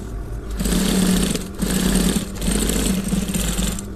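A sewing machine topstitching a shirt collar runs in three steady bursts of rapid mechanical whirring, each separated by brief pauses, close and fairly loud with no talking.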